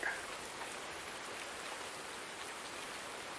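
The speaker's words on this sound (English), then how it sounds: "there's a fair bit of rain today." Steady rain falling in a farming video game set in Nebraska, a soft, even hiss of raindrops on surfaces that continues without a break, fairly faint and distant-sounding, with no talk.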